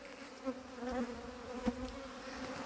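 Honey bees buzz steadily in an open hive, a continuous low drone with a few louder swells as individual bees pass close by, and no talking.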